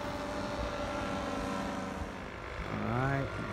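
A powered paraglider motor drones steadily at a distance, a continuous propeller hum with a rising whine toward the end, while a man gives instructions over it.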